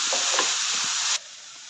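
Onions, green chillies and curry leaves sauté in a hot pan for a Kerala-style chicken curry, giving a steady loud sizzle with a few stirring scrapes that cuts off abruptly near the end, leaving only faint background hiss.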